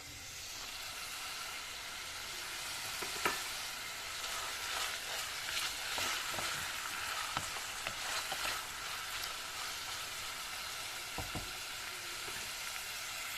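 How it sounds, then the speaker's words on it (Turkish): Meat and onions sauté in a pan, a steady soft sizzle and hiss with occasional scraping stir clicks, fairly quiet and continuous. "Kavurmaya devam."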